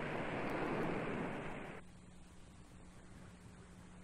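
Broad rushing wash of water waves, loud and steady for under two seconds, then cutting to a softer, quieter surf-like hiss with a faint low hum.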